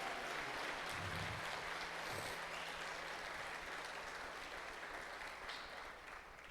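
A church congregation applauds together, a dense, steady wash of clapping that stays fairly even and slowly tapers toward the end, heard at a moderate distance with no speech over it.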